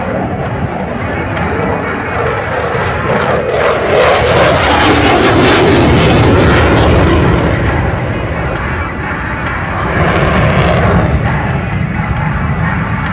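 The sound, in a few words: Eurofighter Typhoon jet flying airshow display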